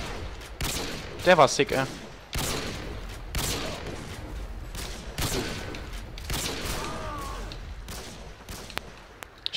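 Gunfire rattles in bursts of rapid shots through a shooter video game match, loud and close, while someone talks over it between the volleys.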